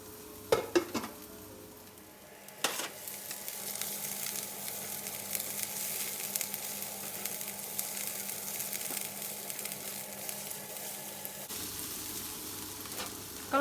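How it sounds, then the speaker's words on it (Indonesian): Garlic and shallots sizzle steadily as they are stir-fried in a little cooking oil in a wok, a continuous frying hiss with a few stirring clinks near the start. "Tumis bawang putih, bawang merah."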